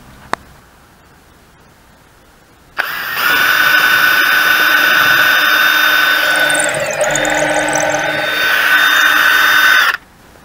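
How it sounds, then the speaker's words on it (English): A power drill bores holes through wood and on into scrap plywood beneath, a steady loud whine running for about seven seconds without a break after a quiet start, then stopping abruptly. "I'll keep drilling on through so the holes will come right on through."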